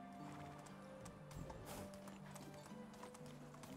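A horse ridden in the medieval game Medieval Dynasty trots with rhythmic clip-clop hoofbeats and gives a whinny midway, set against a quiet ambient background.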